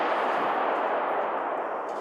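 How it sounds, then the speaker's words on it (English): Robot's gun firing in a RoboCop film effect, heard as a dense, continuous roar of rapid gunfire that holds steady and loud for about two seconds with no speech. "The robot had a gun that fired a 3-shot burst."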